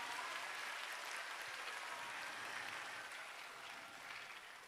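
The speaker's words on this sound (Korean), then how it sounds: "다시 한번 큰 박수" An audience applauds at the opening ceremony of an international climate industry expo in Busan, a steady, distant wash of clapping that tapers off slightly toward the end.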